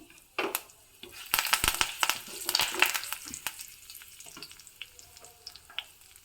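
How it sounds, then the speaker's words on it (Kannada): Curry leaves hit hot oil with turmeric for a tempering in a burst of loud crackling and spattering pops that settle into a lighter, intermittent sizzle. "ನೋಡಿ ಒಗ್ಗರಣೆ ಹಾಕ್ತಾ ಇದೆ"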